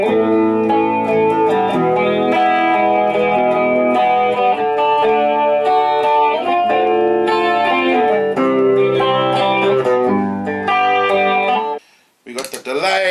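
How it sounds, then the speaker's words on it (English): Electric guitar played through a chorus effect pedal on a plain chorus setting, clean shimmering picked chords and single notes in a country picking style, ringing steadily before a brief pause and a scrape. "I've got it just set on plain old chorus"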